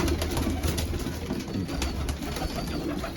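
Several pigeons coo in a steady, low, continuous murmur close by, with no talk over it.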